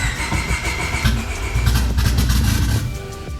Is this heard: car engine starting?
yes